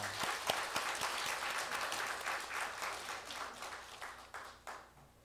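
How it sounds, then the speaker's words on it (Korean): A church congregation at a New Year thanksgiving service claps together in a lively burst of applause that starts strong and gradually thins out and fades over several seconds. "박수로 환영하시겠습니다"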